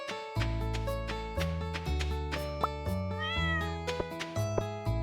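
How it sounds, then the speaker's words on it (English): A cartoonish cat in the farming game Stardew Valley meows repeatedly in a steady run of short, bright, tonal calls over a game music backdrop, with no talking. "And that's a kitty."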